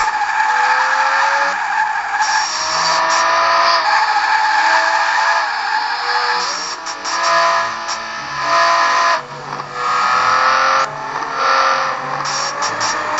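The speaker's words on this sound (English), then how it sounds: "the good way to keep drifting is to lightly tap the angle the opposite of where you're going." Tires screech and skid as a car drifts in the Asphalt 5 racing game on Android, with a continuous loud squeal over the engine roar, shifting in pitch and briefly dipping, with no talk.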